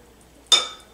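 A small plate is set down with one short, bright ceramic clink close by that rings briefly and fades.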